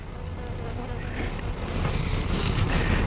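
Honey bees swarming around an open hive during an inspection, a dense, steady buzzing hum close to the microphone that grows slightly louder throughout, with no talking.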